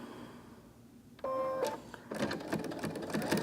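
Ellis sewing machine fitted with a walking foot stitching a quilting line, a short electronic tone followed by bursts of rapid mechanical stitching, fairly close and moderately loud.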